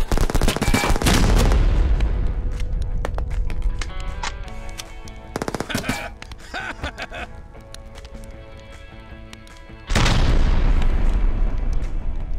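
Loud gunfire from the video game Tony & Clyde: a heavy burst of shots opens, scattered sharp cracks follow through the middle, then another dense volley erupts near the end.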